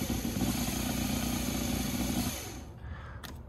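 Motor of a 1981 Craftsman Sherline precision lathe running steadily with a loud, even drone that cuts off near the end, leaving brief faint clicks.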